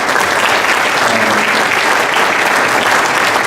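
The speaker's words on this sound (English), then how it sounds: "Let's give her a big round of applause." Sustained, dense applause from a banquet crowd at a hall of fame dinner, loud and steady throughout with no break.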